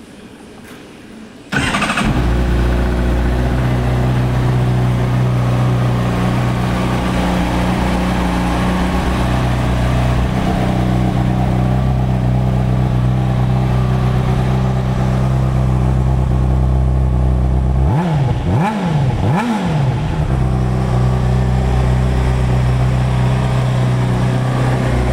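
A black 2009 Honda CBR600RR sport bike fires up after a short quiet lead-in, then holds a loud, steady idle with a few sharp throttle blips near the end, close and alone with no talk.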